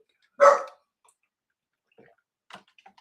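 A dog gives one loud, sharp bark near the start, followed by a few fainter, shorter sounds and quiet gaps in a home setting.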